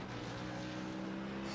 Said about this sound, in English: Engine's that bloody loud